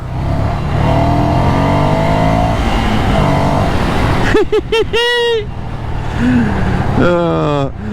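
Ducati Scrambler motorcycle accelerating hard in sport mode, engine note climbing through gears, loud and close with wind noise, a few sharp higher-pitched revs near the end.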